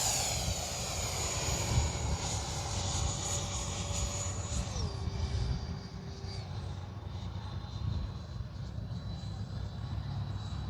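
A HobbyKing FlyCat V2 RC jet on approach gives a steady whining engine drone that drops in pitch midway as power is cut back, moderately loud and continuous with light wind noise.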